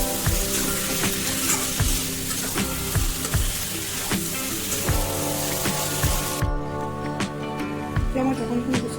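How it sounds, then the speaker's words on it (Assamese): Potatoes fry in a pan with local chicken, a loud continuous sizzle dotted with sharp clicks of stirring and spattering that stays close throughout. "এতিয়া মই এইখিনি আমি ভালদৰে ফ্ৰাই কৰি ল'ম।"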